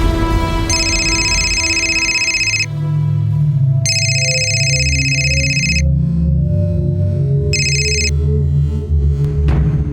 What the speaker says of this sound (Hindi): अरे रुखसाना, फोन क्यों नहीं उठा रही हो?